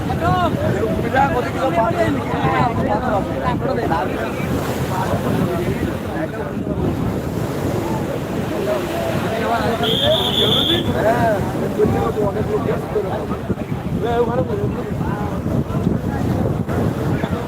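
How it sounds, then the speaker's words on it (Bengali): Ocean waves during a strong high tide at New Digha beach make a constant roaring wash mixed with wind buffeting the microphone, loud and close, while someone talks over it almost throughout. "জোয়ার চলছে ব্যাপক জোয়ার চলছে"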